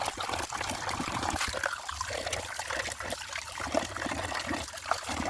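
Running water trickles and splashes steadily as 500 grams of raw liver is rinsed, a close continuous wash with small irregular splashes and no talking.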